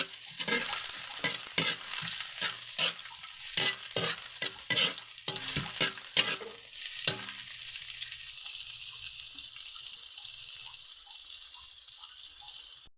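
Garlic and onion sauté in a pan for roasted pork, with loud, rapid scraping and clattering of a stirring spoon for several seconds, then a quieter steady sizzle alone.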